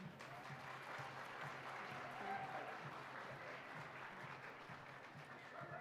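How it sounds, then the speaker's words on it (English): Steady, dense applause from a large crowd greets a contestant at the Gathering of Nations Pow Wow, holding an even, loud level with a faint whistle or two throughout. "Big round of applause, contestant number 2"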